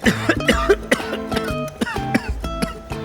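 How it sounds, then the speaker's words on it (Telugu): Someone coughs repeatedly, close up, in a rapid series of harsh bursts with brief throat clearing between them. "దగ్గుగా ఉంది"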